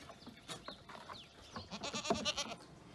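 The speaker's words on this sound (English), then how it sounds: "I have a few goats out here." A few goats on a farm bleat in several short, wavering calls, growing louder and more frequent toward the end over quiet outdoor background.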